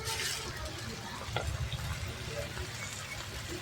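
Stirring in a pan of dried-fish curry as vegetables go in to fry: a soft sizzle runs under brief scraping strokes of a spoon, close and moderately loud.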